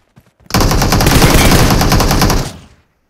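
An MG3 machine gun firing in PUBG Mobile, one loud sustained burst of rapid rattling shots lasting about two seconds, close and alone.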